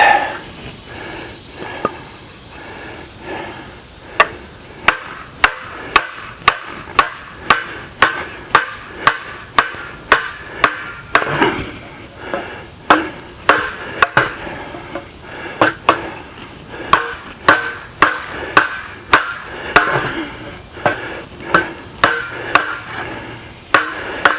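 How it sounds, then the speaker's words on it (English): A knife blade is batoned through a piece of scrap wood, a long run of sharp, close wooden thwacks struck at a fairly steady rhythm, with a constant high hiss behind. "Let's see how well it does at batoning."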